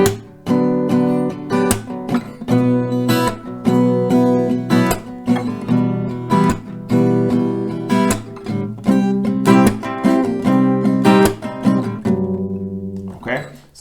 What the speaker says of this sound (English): I can demonstrate how it could sound with just going straight with the strumming here.